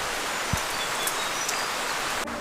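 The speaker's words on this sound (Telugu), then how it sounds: "వర్షం చూపిస్తాను మీకు." Rain falling, a steady broadband hiss that fills the whole stretch, with a few faint drips or ticks and a soft low thump near the start. It sounds close and even, and no one speaks.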